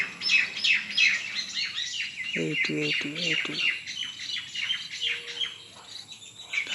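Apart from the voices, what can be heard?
birds chirping in a tree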